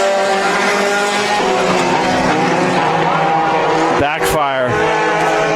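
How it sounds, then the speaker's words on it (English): A race car engine backfires at Bakersfield Speedway with a sharp pop about two thirds of the way through, cutting through the steady loud roar of cars on track and tire noise, with commentary voices underneath. "Backfire."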